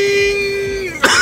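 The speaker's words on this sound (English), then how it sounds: "Coughing and dying as well." A Fortnite character gives a strained, drawn-out vocal groan that ends in a short, harsh cough-like burst, close and loud over faint game ambience.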